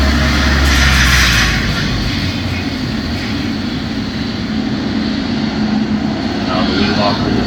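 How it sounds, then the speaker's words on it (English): A Boeing 777-300 jet airliner's engines roar steadily at close range on the airport ground, a loud broadband rumble that holds throughout with no break. "I believe that is a Boeing 777-300. It is pretty long."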